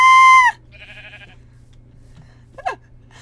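A sheep in the video game Minecraft gives a short, loud bleat right at the start, followed by a softer quacking-like call and a brief faint cry later, over a low steady game background hum.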